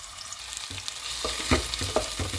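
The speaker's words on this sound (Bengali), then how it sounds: "প্যানটা একদম গরম করে নিয়ে পেঁয়াজটা আমি দিয়ে দিয়েছি" Onions sizzle in a hot pan while a utensil stirs them, knocking and scraping a few times over the constant frying hiss.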